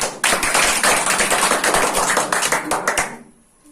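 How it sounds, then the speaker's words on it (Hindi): Children clap loudly and rapidly in a close, crisp burst of many hands, holding strong for about three seconds before cutting off abruptly. "ताली जोर से।"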